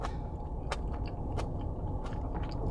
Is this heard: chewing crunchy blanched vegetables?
yes